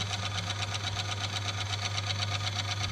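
An automatic transmission gearbox runs without load on a friction test rig, giving a faint, steady low hum with a fast, even rhythmic ticking on top and no speech.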